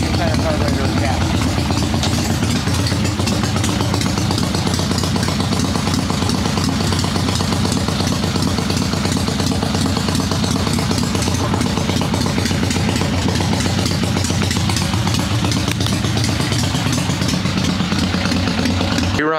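A swap meet chopper motorcycle engine runs steadily at idle after kick-starting with no choke, a loud, close, continuous rumbling clatter throughout with some speech-like noise mixed in.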